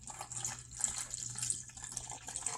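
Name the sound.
water poured onto powder in sensory bin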